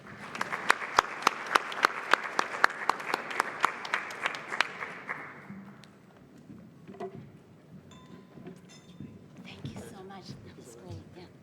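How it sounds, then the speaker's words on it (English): Round of applause for panelists at the close of a digital skills for jobs session, steady clapping from an audience with sharp individual claps standing out, lasting about five seconds before giving way to quiet room murmur and faint talk. "a big round of applause for our panelists"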